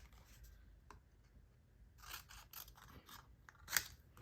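Scissors cut paper for a double-page scrapbook layout: a few quiet snips close by, with the last one crisp and sharp, and no voices.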